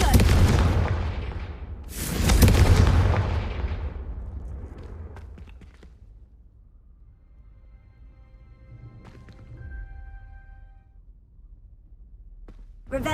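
A Confringo blasting spell from the Hogwarts Legacy video game goes off in loud, booming bursts, one at the start and a second heavy blast around two seconds in, then fading into a quiet rumble with faint tonal chimes afterward.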